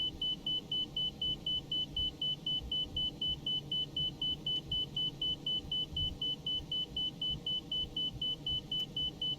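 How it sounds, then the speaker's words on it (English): The marker beacon in the cockpit of a ToLiss A319 airliner in the X-Plane 12 flight simulator sounds a steady run of evenly spaced, high-pitched beeps over a low, constant engine rumble. "And that beeping noise, folks, is the enter marker."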